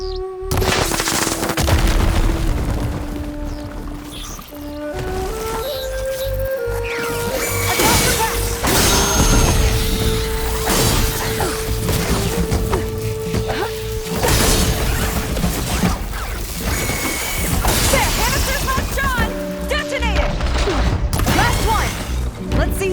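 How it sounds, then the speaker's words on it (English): Glowing crystals detonating in Horizon Forbidden West amid a busy, loud run of combat: repeated sharp blasts, crashes and shattering bursts over sustained music and effects for the whole span. "See those glowing crystals? Takes one hit to detonate."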